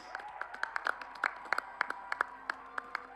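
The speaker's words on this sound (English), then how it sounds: "Round of applause, everybody, please." Applause at an award ceremony as a winner is called up, heard as a modest run of separate, fairly close claps at an uneven pace over a steady background tone.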